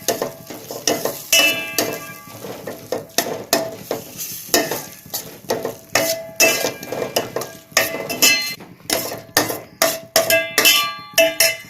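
Chopped cabbage sautés in a pan for a bread egg masala, with a spatula scraping and clinking against the metal in a quick, irregular rhythm over a soft, close sizzle.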